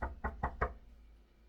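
Four quick knocks on a door inside a haunted house, sharp and evenly spaced, followed by a brief faint low hum with no talking.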